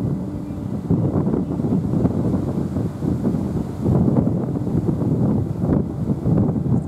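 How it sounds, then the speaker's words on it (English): Strong, powerful wind buffeting the microphone outdoors, a loud, continuous rumbling roar that swells and eases without pause. "it's a powerful wind. You can hear it."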